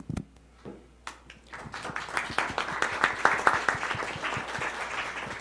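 At an international forum on Indigenous community radio, an audience starts applauding with a few scattered claps. The clapping swells into steady, moderately loud clapping from a modest crowd and then holds at that level.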